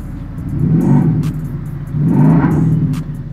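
Synthetic combustion-engine sound played by a Maxhaust system on an electric Jaguar I-Pace EV400, two loud revving swells about a second apart, each rising and falling with a deep rumble.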